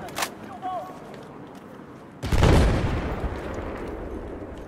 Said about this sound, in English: I got a few shots on him.